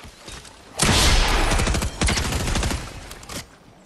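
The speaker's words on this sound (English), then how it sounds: "Trying to shoot that thing at me, bro?" Automatic gunfire in the video game Fortnite, a loud burst of rapid shots starting after a quiet moment and continuing for about two and a half seconds with brief gaps before cutting off, with no talk.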